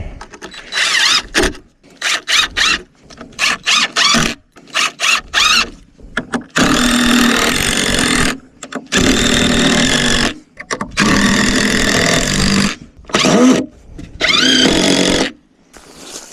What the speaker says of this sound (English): Hold up, let me put some screws in it.